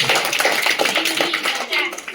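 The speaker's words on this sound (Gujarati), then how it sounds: "હા, તાળી. તાળી પાડી દો." Children at a government primary school quiz competition clap together, a dense, steady patter of many hands close by, with voices talking over it throughout.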